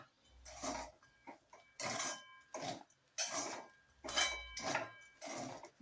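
Sabudana khichdi with peanut powder being stirred in a pan, giving repeated scraping and clinking bursts of spoon against metal in a steady rhythm, close and moderately loud, with no talk.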